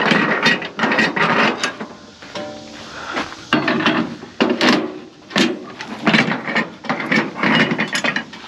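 A ratchet winch on a flatbed truck is cranked to loosen a cargo strap, giving repeated close metallic clicks and clunks in uneven bursts with brief pauses, and no talking.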